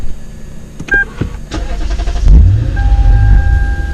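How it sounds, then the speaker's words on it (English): A car engine starts up after a few clicks and a beep, then cranks into a low rumble that settles into a steady close idle. "I'm gonna start my car up"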